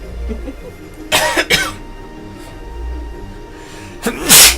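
Two sharp sneeze-like bursts come in quick succession, then a louder third burst near the end, each brief and close, over a low, steady background hum.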